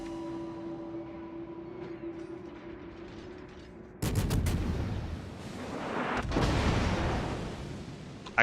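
Naval guns fire in a warship video game: a sudden loud boom erupts after a quiet humming stretch, followed by a rumbling roll and a second swelling blast, with no talking over it.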